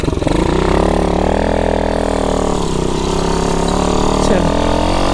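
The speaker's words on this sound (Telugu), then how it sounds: "ఈ బుడ్డ బైక్ని అయితే నడుపుదాము." A Hero XPulse 200 motorcycle runs off-road with a loud, close engine drone that rises and falls in pitch as it revs, while a voice talks over it.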